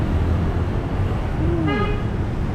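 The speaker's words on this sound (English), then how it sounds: "Is it on an intersection where there's going to be a lot of honking going on?" A steady roar of street traffic in Da Nang, Vietnam, with a single short car horn toot partway through, somewhat distant.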